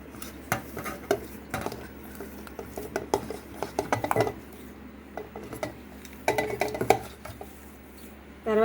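Spoon scraping and tapping in a bowl while gram flour, onions and potato are mixed into a batter, a busy run of close clinks and scrapes with short pauses.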